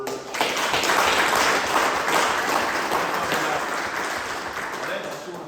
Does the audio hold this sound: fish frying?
no